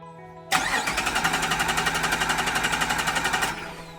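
A low-mile Jeep Wrangler TJ under rebuild cranks for about three seconds with a loud, fast rhythmic chugging from the starter and engine, then cuts off.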